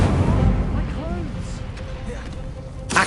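An Incendio fire spell is cast in Hogwarts Legacy, with a heavy booming burst up front that trails into rumbling combat noise, followed by a sharp crack near the end.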